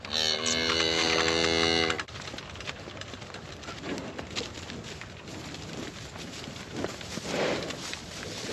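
Farm cows waiting for a pasture move, with a loud sustained moo at the start followed by quieter shuffling, hoof steps and scattered calls from the herd.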